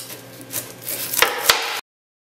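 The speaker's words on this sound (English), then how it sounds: "now we have our onions all chopped" A knife chops onions on a board in a short burst of close taps and thuds, with two sharper strikes near the end before sudden silence.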